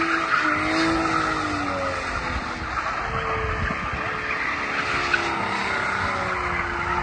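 A Nissan Z skids hard at a street takeover, tires squealing in long wavering tones over a loud engine roar with crowd noise, building toward a crash.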